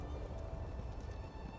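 Horse hooves clip-clop in The Elder Scrolls Online as a steady, close rhythm of quiet hoofbeats that continues without pause.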